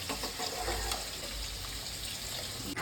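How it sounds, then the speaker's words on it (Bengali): Hot water poured into a cooking pot for vegetarian khichuri, a steady close rushing splash that runs unbroken for a few seconds. "গরম জলটা দিলাম, আমি কিছুটা গরম জল করে রেখেছিলাম।"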